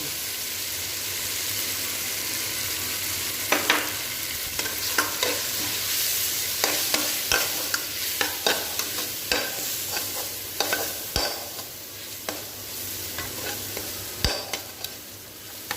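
Tomatoes sautéing with kulambu spice powder in a pan for egg kulambu, a steady sizzle under repeated scraping and stirring strokes of a spoon, close and continuous, with no talking.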